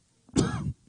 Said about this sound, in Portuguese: eu estou com a tosse.